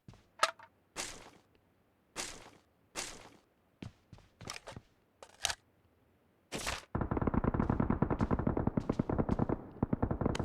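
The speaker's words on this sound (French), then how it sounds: "Vous entendez comment ça tire? C'est juste énorme." Rapid automatic gunfire in the PUBG Mobile battle-royale game: scattered single shots and short bursts give way to a long, loud, sustained volley.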